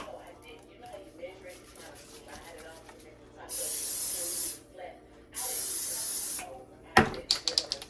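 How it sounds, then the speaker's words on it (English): Two long hissing bursts of cooking spray onto a waffle iron, each lasting about a second, come between muffled talk and kitchen clatter, followed by a sharp clunk and rattling. "I'm gonna go ahead and spray down my waffle iron."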